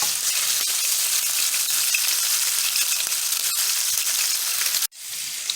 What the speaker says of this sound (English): take our wooden spatula and start breaking this apart and cooking it until all the meat